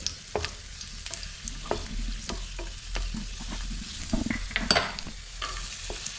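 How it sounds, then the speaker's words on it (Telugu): Cashews fry in a pan for semiya kesari with a close, steady sizzle, broken by frequent scraping and clinking as they are stirred. "జీడిపప్పు వేపుకున్నాము దోరగా వేసుకోవాలి"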